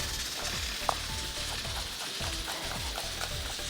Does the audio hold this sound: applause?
no